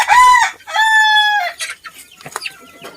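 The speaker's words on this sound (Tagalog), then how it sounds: "Ito nga pala yung babae ng aking mga habard chicken." Hubbard hens sound off close and loud with two drawn-out, squawking calls, then a scatter of shorter clucks and chatter from the flock.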